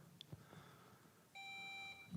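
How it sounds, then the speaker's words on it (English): A scholastic bowl quiz buzzer is tested at a competition, giving one sustained, steady electronic tone that holds for just under a second, preceded by faint room noise and a light tap. "Do you want to test your buzzer?"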